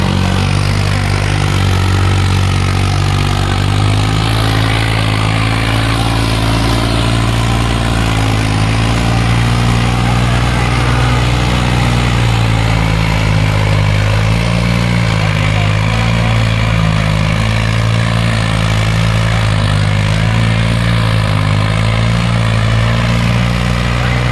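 A modified tractor engine runs steadily and loudly nearby for the whole stretch, a constant deep throbbing drone with strong low harmonics and no pauses.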